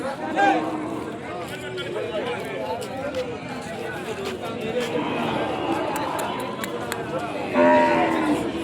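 At the Kodad Sunday market, Ongole calves moo under nearly continuous nearby talk, with a louder call rising near the end.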